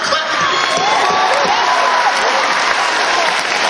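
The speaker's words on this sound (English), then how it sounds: "If you want to clap, clap." An audience claps and cheers at a comedy show in Atlantic City, with loud, even applause throughout and a few whoops rising over the crowd.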